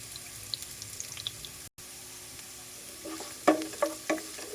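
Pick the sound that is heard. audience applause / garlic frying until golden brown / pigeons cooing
garlic frying until golden brown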